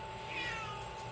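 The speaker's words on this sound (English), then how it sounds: "So the cat's also here." A household cat gives a short meow, fairly faint and brief against a steady indoor background hum.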